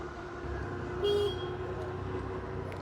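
A vehicle horn gives one short toot on a flooded road in Kulaura, Bangladesh, over a steady hum of engines and traffic.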